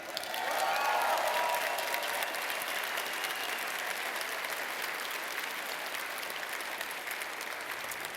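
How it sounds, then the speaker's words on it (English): Steady, sustained applause from a large audience at a gamescom 2017 reveal ceremony, a continuous wash of clapping that holds at a moderate level throughout. "let's clap for Ava"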